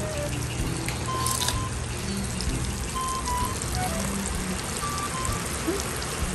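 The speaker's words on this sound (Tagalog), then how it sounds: "umuulan na naman po ulit sa labas. Ngayon po ay maulan na." Rain falls steadily outside, a constant broadband hiss of drops with no pauses, close and even, and no voices over it.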